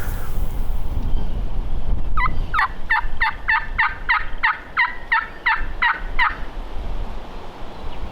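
A wild turkey gobbler on South Dakota public land gobbles in a clear burst of roughly a dozen quick, rattling notes in a tight rhythm, fairly near, standing alone over a quiet outdoor background.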